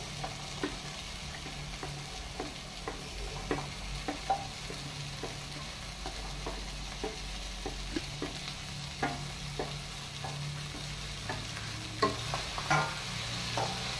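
Fried mixed vegetables stirred into sizzling masala in oil for a Goan veg korma, a steady sizzle under repeated scraping strokes of a spoon against the pan, close and clear with no talking.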